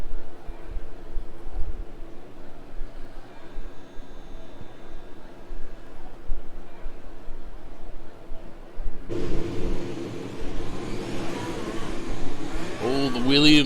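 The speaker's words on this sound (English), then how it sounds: "I hear some engines being fired up." Race car engines firing up and revving at Spa-Francorchamps in a racing video game, a steady mechanical drone that swells sharply louder and brighter partway through, with talk running over it.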